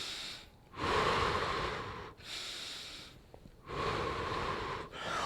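Heavy, loud breathing follows jumping jacks in an adult exercise class: three long, rushing breaths close to the mic, separated by short pauses.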